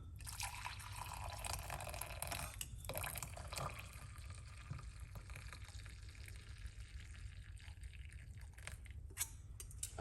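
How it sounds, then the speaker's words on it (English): Cooked liquid being poured off after coming off the cooker, a soft continuous trickle and drip of fluid that stays faint and steady throughout. "Pour it off."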